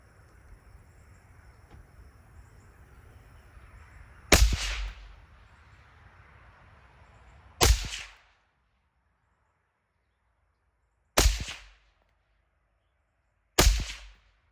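Four sharp, loud rifle shots from a 20-inch DMR/SPR build with a Criterion fluted barrel and red dot sight, fired at irregular intervals of a few seconds, each with a short outdoor echo tail and quiet between.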